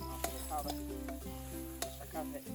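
Steady sizzling of garlic frying in a hot pan, with occasional clinks of a utensil stirring; continuous and fairly close.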